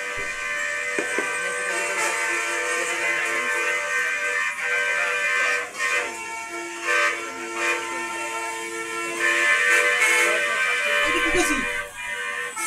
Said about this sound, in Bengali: গাড়ি ঘোড়ার প্রচন্ড শব্দ।